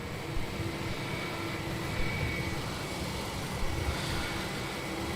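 An Airbus A330-300 taxiing at Melbourne Airport, a steady, fairly distant jet engine drone and whine holding constant over the whole stretch.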